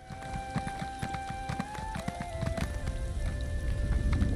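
Horse hooves clip-clop steadily in the Elder Scrolls Online video game, with distinct repeated hoofbeats against soft rain-like ambience and sustained musical tones.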